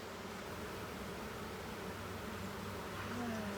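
Honey bees buzzing around an open hive during an inspection, a steady close swarm drone filling the whole stretch with no pause.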